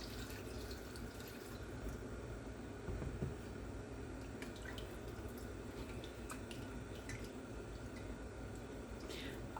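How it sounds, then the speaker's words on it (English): Milk pours into a pot for homemade potato soup, a continuous liquid splash and gurgle steady throughout, with small drips and light clinks on top. "Now we're going to add our milk."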